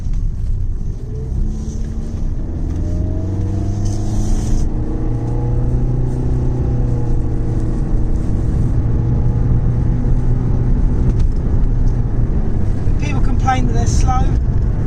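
Interior of a small town car cruising on the motorway at 55 mph, with a loud, steady engine drone and road rumble throughout, tones shifting slightly as the engine holds speed.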